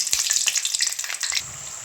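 Singara (samosas) deep frying in oil over a low flame give a close, bright sizzle, with a few soft clinks early on and the bubbling settling to a steadier hiss.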